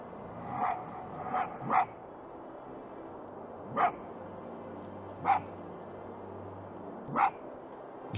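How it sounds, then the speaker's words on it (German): An animal in the video game Spirit of the North gives five short, sharp barks at uneven intervals, two close together and then three spaced apart, over a faint ambient backdrop. "Ich kann auch bellen."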